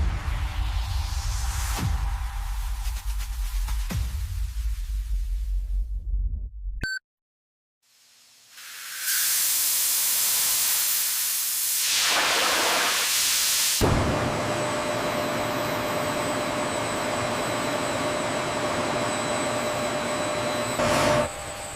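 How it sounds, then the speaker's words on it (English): Concentrated sugar syrup boils under vacuum at a large sugar processing factory, a loud, hissing industrial roar broken by a brief near-silent gap before the rushing noise returns and holds steady. "the concentrated syrup is carefully boiled under vacuum"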